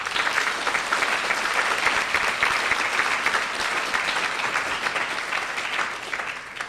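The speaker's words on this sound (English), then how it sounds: "Another round of applause" Audience applause for the keynote speaker at an annual lecture, a loud, full and sustained roar of many hands clapping that holds steady for several seconds and then begins to taper at the end.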